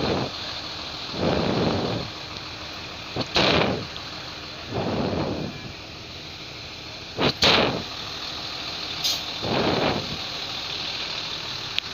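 A bus engine idles at night at a police checkpoint on the road to Madura via the Suramadu bridge, a low steady rumble broken by several louder rushing swells of passing traffic.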